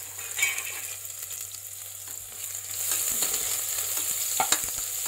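Crushed garlic and ginger paste frying in a pan with cumin seeds while being stirred, for Punjabi rajma masala; a steady soft sizzle runs throughout with occasional scraping stir sounds, fairly quiet and close.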